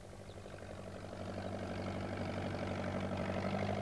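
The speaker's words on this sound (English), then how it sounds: "when Peter Fogg came along on his tractor." A tractor engine idles with a low, even throb and steady harmonic hum, growing slightly louder and closer partway through.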